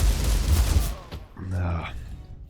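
Rapid gunfire in Counter-Strike: Global Offensive, a burst of loud, close shots in the first second, followed by someone talking.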